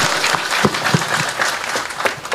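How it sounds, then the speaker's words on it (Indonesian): An audience at a Javanese comedy show claps for a female dalang puppeteer, a close, dense burst of applause filling a couple of seconds with no talk over it. "Tepuk tangan buat Mbak Dalang."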